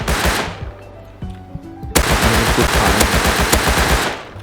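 Automatic gunfire in the survival video game Rust, loud and rapid, with fast bursts of shots rattling continuously and sharp cracks standing out against the steady firing.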